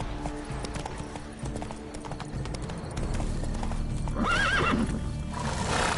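A horse in The Witcher 3 gallops with steady, close hoof clip-clops and gives a loud, shrill whinny partway through, over ambient game sound.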